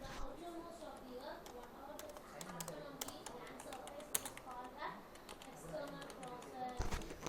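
Someone types on a computer keyboard while entering text into an MS Excel spreadsheet in a school computer lesson. Quiet, quick clicks of varying rhythm sit under a person talking.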